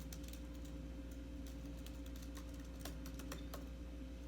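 Keyboard typing while writing a novel, quick irregular key clicks spread across the whole stretch over a steady low hum, fairly faint and close.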